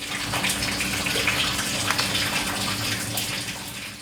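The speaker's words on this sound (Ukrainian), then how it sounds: "з підвалу багатоповерхівки чутно, як вода б'є чи не фонтаном." Water gushes loudly and continuously like a fountain in an apartment block basement, a steady rushing spray with a low mechanical hum beneath it, heard close up.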